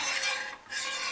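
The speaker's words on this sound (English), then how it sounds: "Stir it." A spoon stirring banana in coconut milk sauce in a pot, a steady soft scraping rasp with a brief dip in the middle, close and quiet with no talking.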